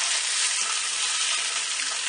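Salt-and-pepper-seasoned scallops searing in a frying pan, producing a steady, dense, close sizzle that stays loud and even throughout with no voices.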